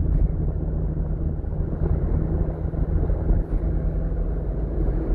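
A 2017 Toyota Innova 2.0 gas engine car cruises at steady speed on cruise control in the Philippines. Its low, even engine and road drone fills the cabin continuously, with no talking.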